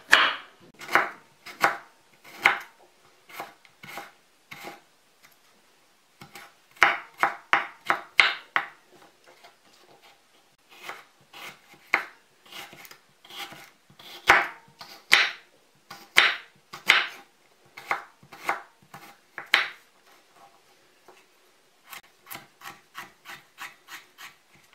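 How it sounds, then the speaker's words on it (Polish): Japanese quince fruit finely chopped with a knife on a cutting board, close, crisp rhythmic knocks in quick bursts separated by short pauses, no talk. "I teraz drobniutko je kroję."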